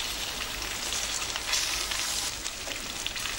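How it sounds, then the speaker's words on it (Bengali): Foli fish koftas frying in oil over medium-low heat, a dense continuous sizzle and crackle, close and steady with no talking. "এভাবে আমি সব কয়টি কোপ্তা ভেজে নিচ্ছি।"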